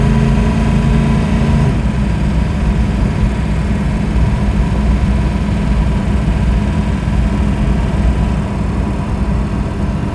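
A 1962 Mercedes-Benz 220SEb V8 Cabriolet engine pulls hard while driving on winding community roads. Its loud, steady low rumble shifts in tone early on and then holds close and continuous, with no talk.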